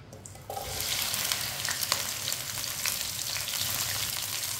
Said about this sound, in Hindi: भिंडी डाल लेंगे।